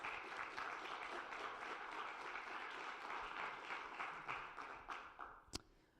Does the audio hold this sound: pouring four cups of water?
no